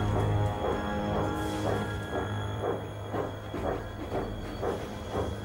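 A steam engine is worked slowly forward along the line, giving a steady series of soft rhythmic chuffs at a moderate distance over a constant low rumble.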